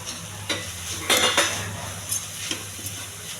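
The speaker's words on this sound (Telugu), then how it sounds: "కోసి పెట్టుకున్న పాలకూర అండి, ఈ తాలింపులో వేసుకోవాలి" Chopped spinach lands in a hot tempering in the pan and sizzles steadily while a spoon stirs and scrapes against the metal, giving several distinct clanks over the low frying hiss.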